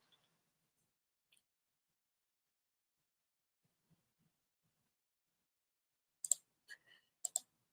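Computer mouse clicks come as a few crisp, sharp taps near the end after a long stretch of near silence, with a couple of fainter ticks earlier.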